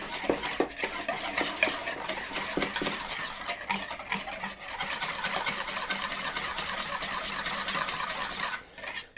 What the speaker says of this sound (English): I'm going to whisk it quite well so that the oil and vinegar don't separate.